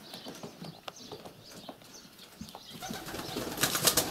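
Rock pigeons at a dovecote make soft fluttering and shuffling sounds near the microphone, quiet at first and then building into denser rustling and wing flaps toward the end.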